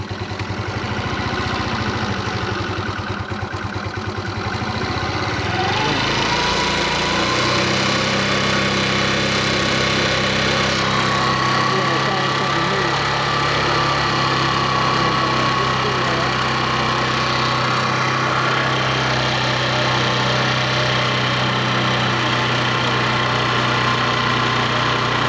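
A scooter engine runs steadily and loudly throughout a carburetor idle adjustment, its pitch shifting upward partway through as the throttle idle screw is turned, then holding a constant buzzing drone.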